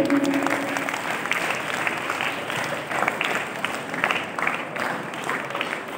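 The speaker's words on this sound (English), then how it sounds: "Let's give a big round of applause to Afila from 6th Street" Steady, dense applause from an audience at an Independence Day celebration, following a speech, with a faint voice underneath.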